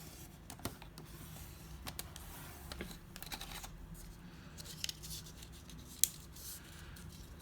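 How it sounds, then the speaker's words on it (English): Scored cardstock for a mini Christmas album is folded and burnished by hand, producing quiet scattered rubbing, creasing and a few light taps with no speech. "we're going to fold and burnish those score marks"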